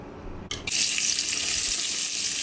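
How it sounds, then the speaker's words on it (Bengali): Oil for fried rice hitting a hot pan, a sudden loud hiss that settles into a steady, close sizzle, heard alone. "তেল দিয়ে দিতেছি আমি প্রথমে কিছুটা অল্প পরিমাণে"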